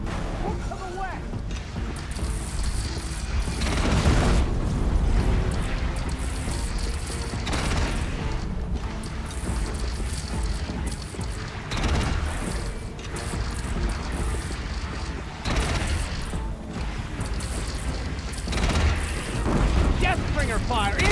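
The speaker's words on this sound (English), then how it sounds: "Deathbringer fire incoming!" Heavy booming explosions fired by the huge Deathbringer machine in Horizon Zero Dawn, played on Ultrahard, thudding repeatedly over a dense roar of game combat, loud and close, with a voice talking over the action.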